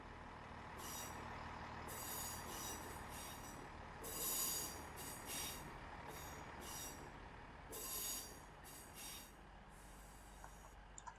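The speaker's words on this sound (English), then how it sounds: "coming in now is the 1136 Transport for Wales service to Birmingham International from Hollyhead" A Class 158 diesel passenger train rumbles steadily nearby as it arrives at Chester station, with repeated high-pitched wheel squeals and hisses rising and falling as it rolls slowly in.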